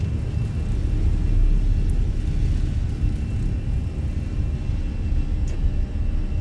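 Jet airliner taking off from Gran Canaria airport in a flight simulator: a loud, steady low engine roar with broadband rumble, heard alone with no talking.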